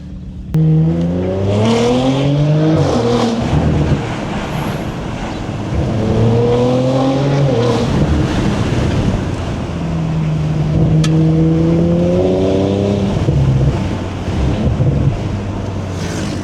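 An Audi RS5 in dynamic mode pulls away and accelerates hard, its engine note climbing steadily through several gear changes with brief dips between shifts, loud and close over steady wind rush.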